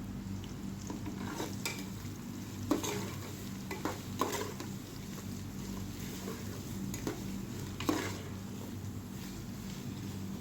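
Chopped onions stirred in a pan for kadhi pakora, with steady soft scraping and occasional clinks of a spoon against the pan over a low continuous hum.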